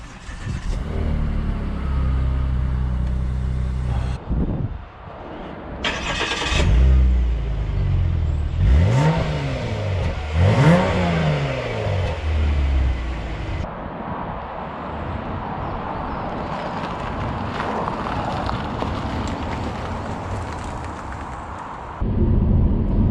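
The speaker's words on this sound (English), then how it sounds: "Keyless drive means one click of the start button does it." A 2008 Volvo V70 3.2 petrol engine cranks and catches, revs up sharply twice, then settles into a steady idle rumble close by.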